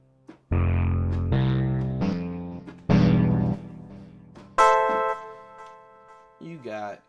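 Keys instrument sounds previewed in music production software, a series of loud struck chords and single notes, each ringing out and decaying before the next, ending with a brighter sustained tone and a short wavering note.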